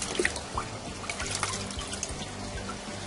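Water splashes and trickles over a freshly caught Murray cod as it is rinsed, with irregular drips and small spatters close by and no talking.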